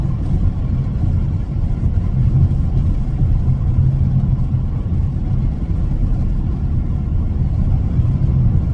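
A Toyota GR Corolla accelerates hard on a back road with some wheel slippage, a steady loud low engine rumble and road noise from inside the car, with no talking.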